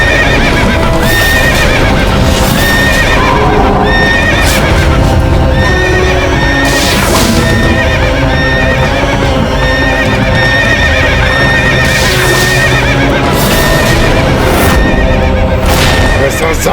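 A horse neighs and whinnies repeatedly, close and loud, while hooves clip-clop beneath, with several sharp whinny bursts spread across a busy outdoor scene and faint voices in the background.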